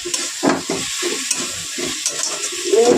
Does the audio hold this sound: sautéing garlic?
yes